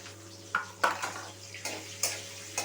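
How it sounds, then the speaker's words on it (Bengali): Capsicum pieces sizzle in hot oil in a pan while cooking chicken darbar, a steady frying hiss broken by a few clinks and stirring scrapes. "তেলের মধ্যে এখানে আমি ক্যাপসিকামগুলো আমি দিয়ে দিচ্ছি।"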